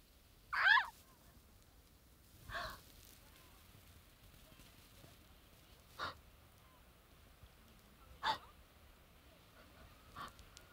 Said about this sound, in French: L'appel de l'oiseau.